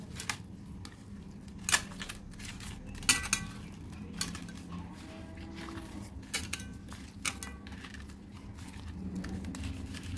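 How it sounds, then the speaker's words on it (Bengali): Koi fish being hand-mixed in a bowl with mustard oil, salt, turmeric and spices, giving soft scattered squelches and occasional sharp clinks against the bowl at close range, with no talking. "উপর থেকে একটুখানি সর্ষের তেল দিয়ে দিচ্ছি, তাহলে মাখাটা ভালো হবে। ভালোভাবে মেখে নিচ্ছি।"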